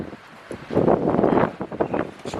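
Strong mountain wind near Estes Park, Colorado, gusts and buffets the microphone, rising into a loud roaring surge before easing into fluttering bursts.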